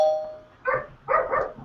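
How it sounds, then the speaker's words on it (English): Yorkshire Terrier barking indoors, a chime-like tone at first, then two or three short, sharp, high yaps fairly close by, with no talk over them. "Barks when we hit the bed. There she goes. She barks on cue."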